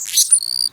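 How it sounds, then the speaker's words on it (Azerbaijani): High, thin chirps and a short sustained twittering from a hummingbird, the world's smallest bird, heard close and alone in one brief burst. "Kolibri, təbiətin miniatür quşu."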